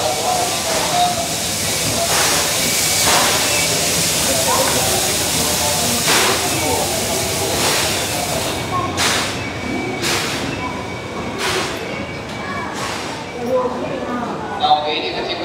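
The C56 160 steam locomotive on the SL Kita-Biwako service pulls into a station platform with a continuous loud hiss of steam and rolling rumble. Sharp bursts punctuate it while platform announcements and voices carry over the top.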